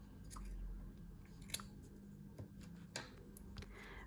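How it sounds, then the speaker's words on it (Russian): Small scissors snip away fabric to even the surface of a handmade Christmas ornament. A few faint, scattered, close-up snips and clicks sound over a low background hum. "Вот здесь серединку я убираю ткань маленькими ножницами, чтобы выровнять поверхность."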